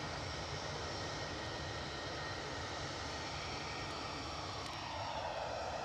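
EasyJet airliner at Edinburgh Airport, its jet engines producing a constant, broad roar heard from nearby, steady and unbroken throughout with no voices.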